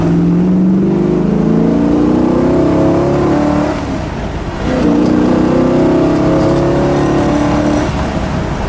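A 1964 Chevrolet Impala SS 409 V8 with a four-speed, driven through Ohio countryside, revs loudly in two rising pulls split by a brief dip around the shift, with a steady rumbling exhaust throughout.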